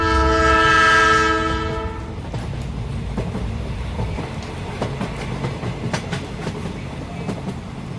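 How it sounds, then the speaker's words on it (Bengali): A train horn blows one long sustained blast, then fades as the rumble and rhythmic clatter of passing railcars take over, wheels clicking on the rails for several seconds with no voices. "ঠিক তখনই দূর থেকে হালকা হুইসেল শুনতে পেলেন।"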